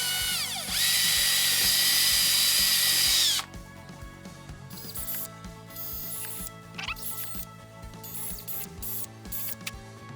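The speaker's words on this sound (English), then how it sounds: "I'm gonna go in with a 532 bit and drill my mounting holes here" A power drill with a 5/32 bit bores mounting holes in a Hobie Guardian transducer plate, one loud sustained high whine for about three seconds, followed by quieter handling clicks and scrapes.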